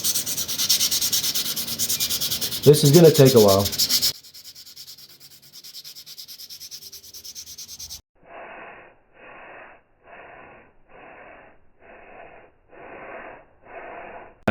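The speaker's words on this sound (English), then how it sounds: "now it's time for the finished sanding" Hand sanding on wooden coasters: about seven steady back-and-forth strokes in an even rhythm, close by. A short spoken remark and rougher rubbing noise come before them.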